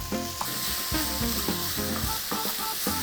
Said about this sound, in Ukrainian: А поки смажиться наш фарш